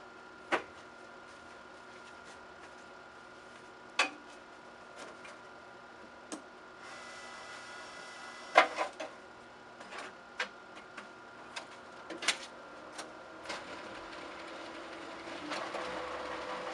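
A VIP envelope feeder machine runs quietly, giving a soft mechanical hum broken by sharp, irregular clicks and clacks as envelopes feed through, with no talk.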